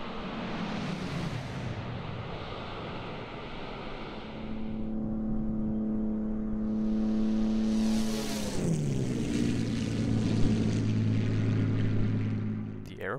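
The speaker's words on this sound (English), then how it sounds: "The Aeroplane Heaven's P51 Mustang D with its Packard Merlin V12 and absolutely iconic airframe deserves to sound authentic" A simulated Aeroplane Heaven P-51D Mustang with its Packard Merlin V12 drones by in Microsoft Flight Simulator. The engine roar builds, then its pitch drops sharply as it passes midway and settles into a lower, receding hum.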